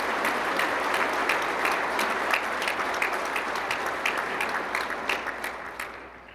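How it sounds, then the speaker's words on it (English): A crowd at a county government event applauds its public safety team, a dense, steady wash of many hands clapping that holds for several seconds and thins slightly toward the end. "Will we please give the public safety team a round of applause."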